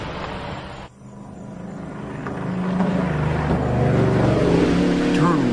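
A car engine drones steadily and builds slightly louder as it passes, loud and continuous throughout.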